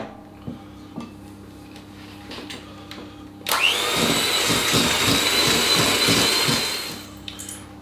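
Cake batter for an apple crumble cake being mixed in a bowl with an electric mixer, which starts abruptly after a few quiet clinks, whirs loudly and steadily for several seconds, then winds down.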